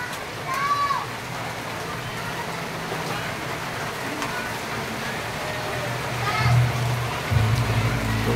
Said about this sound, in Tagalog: Inabot na tayo ng ulan sapagkat wala nang summer.